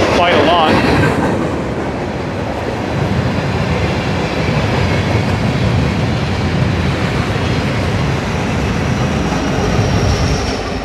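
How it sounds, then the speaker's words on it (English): A long train rumbles steadily past at close range during a live e-bike ride, its loud, continuous rolling noise of rail cars filling the whole stretch with no break. "Oh, that was the whole train."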